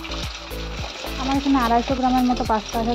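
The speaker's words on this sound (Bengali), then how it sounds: "ডিমটা ভালো করে ভাজা করে নেবো নুন দিয়ে" A beaten egg fries with salt in a wok, a close crackling sizzle running continuously beneath someone talking throughout.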